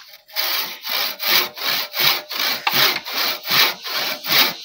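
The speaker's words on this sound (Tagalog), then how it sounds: "Testing muna natin yung ordinaryong lagari." An ordinary local hand saw cuts through wood from a tree in about ten steady back-and-forth strokes, each a loud, rasping sweep close to the listener, with no talking.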